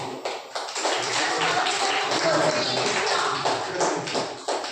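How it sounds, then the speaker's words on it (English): An audience at an electric vehicle master class claps steadily for several seconds, a dense patter of hands from a crowd close by, with speech heard under it. "Give the applause to your friends."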